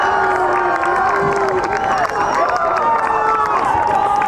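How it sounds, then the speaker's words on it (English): Crowd cheering and shouting for the seniors at a high school soccer season finale between Salt Lake Academy and Herriman, a steady loud roar of many voices with whoops and calls throughout. "Cheering on their seniors."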